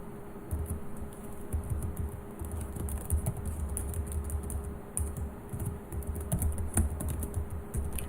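Quick, uneven keystrokes on a computer keyboard, tapped in short bursts with brief pauses over a faint steady room hum, close and fairly quiet.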